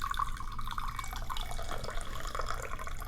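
Tea pouring from a tilted gaiwan, a continuous trickling liquid stream with light splashing, steady and close throughout, with no talk.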